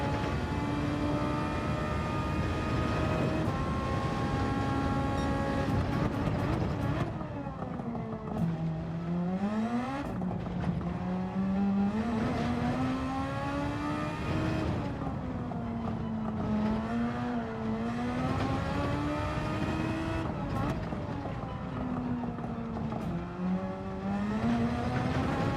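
A race car in Gran Turismo 7 powers out of a corner, its engine note sweeping up through the revs and shifting repeatedly. The sound is continuous and prominent, with no talk over it.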